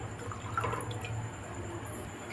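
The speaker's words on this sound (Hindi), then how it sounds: "अब डाल देंगे इनमें दूध।" Milk pours into a heavy-bottomed kadai for kheer, a soft, steady liquid trickle and splash at close range, fairly quiet and without talking.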